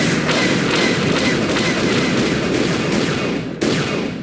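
Heavy incoming blaster fire in the Knights of the Old Republic video game forms a loud, continuous stream of rapid shots that rumbles on steadily, with one sharp crack near the end.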